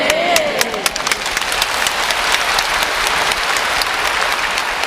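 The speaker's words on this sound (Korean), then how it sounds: "지금은 여러분 박수를 치지만" A church congregation applauding during a sermon, a dense, loud wash of many clapping hands that fills the room evenly and continues steadily throughout, with faint voices mixed into the crowd noise.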